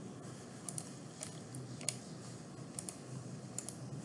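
Faint, scattered clicks of computer keyboard keys being tapped one at a time at an uneven pace over quiet room hiss, with no talking.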